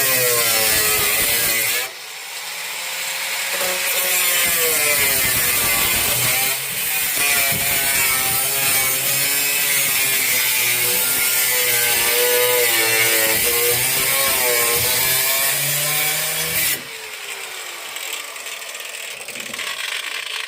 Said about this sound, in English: Sounds like you got a bad cord on a grinder.